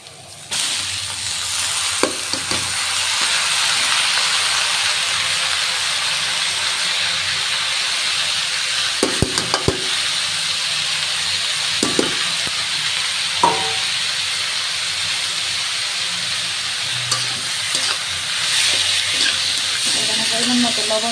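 Grated radish is tipped into a pan of frying onions, bringing a sustained loud sizzle and steamy hiss with a few spatula scrapes and knocks against the pan throughout.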